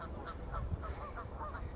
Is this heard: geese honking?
yes